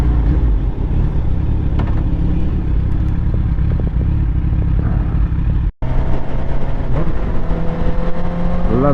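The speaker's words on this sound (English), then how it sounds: "Lovely downshift." Motorcycle engine downshifting in traffic, a loud rough engine drone with wind buffeting, a short cut-out midway, then rising and falling revs as the gear changes.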